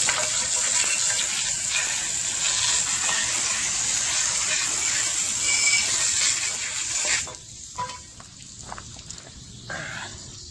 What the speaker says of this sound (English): we're going to do a quick rinse